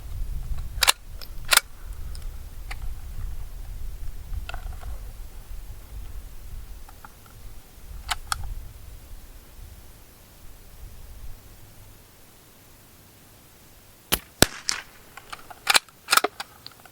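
A 50m rifle fires a five-shot series on a range: sharp, distant-sounding cracks spaced irregularly over a low rumbling background, the last few coming closer together near the end.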